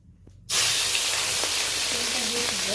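Small mourala fish drop into hot mustard oil and a sudden loud sizzle erupts after a brief quiet moment, then continues as a steady close hiss with faint background sounds.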